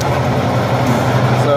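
A Lincoln SA200 engine-driven welder idles steadily under its hood, a continuous low mechanical drone with a faint rising tone near the end, heard close and constant.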